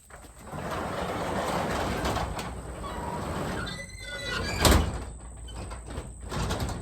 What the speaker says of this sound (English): You shut our garage door here.